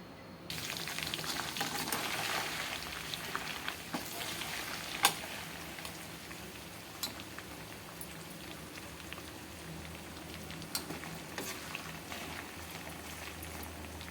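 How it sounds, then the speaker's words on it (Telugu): Chicken pieces frying in peanut oil for a pickle give a steady, close crackling sizzle with bursts of bubbling and occasional sharp pops, with no talking. "శనగ నూనె వేయటం వల్ల ఇలా అయితే పొంగుతుందండి బాగా"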